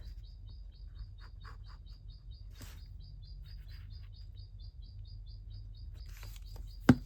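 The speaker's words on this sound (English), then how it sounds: "Do you hear the birds outside?" Small birds chirp repeatedly in a steady rhythm outdoors, faint and distant, over a quiet low hum with an occasional soft tap.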